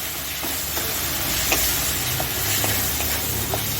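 Spices with turmeric powder being sautéed in a pan for a fish curry, a steady low sizzle and hiss with faint scattered stirring clicks throughout.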